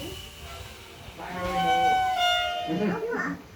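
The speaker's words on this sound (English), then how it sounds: "You heard the whistle?" A heritage railway train whistle in Barbados sounds in a sustained tonal blast, rising loud in the middle, with voices and background rumble around it.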